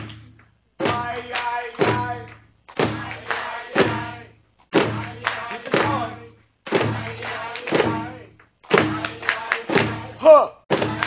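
A drum circle at a wellness conference's closing ceremony plays a steady rhythm while a group chants and sings along in short, repeating phrases, with loud thumping beats under the voices.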